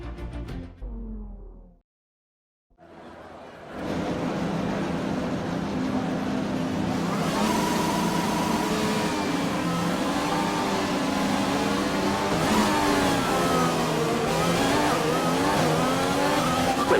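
F1 car engines in the F1 2020 video game rev hard at the race start, a loud, sustained multi-engine roar with rising pitch sweeps after a brief quiet gap.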